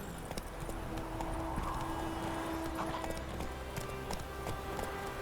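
Horse hooves galloping in The Witcher 3 video game on Nintendo Switch, a steady rapid clip-clop under dense game ambience and music, continuous and moderately loud.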